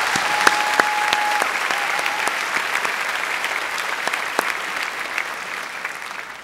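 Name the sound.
graduation audience applauding retiring faculty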